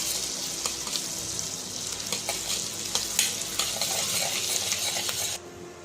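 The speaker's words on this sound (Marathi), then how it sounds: "बटर आपलं असं गरम झालेलं आहे। आता आपण याच्यामध्ये लसूण आणि अद्रकची पेस्ट टाकून घेऊ आणि छान तळून घेऊ।" Garlic and ginger paste fries in hot butter for pav bhaji, giving a loud, continuous sizzle. Stirring scrapes and small metallic clinks of a utensil against the pan run through it, and the sound cuts off abruptly near the end.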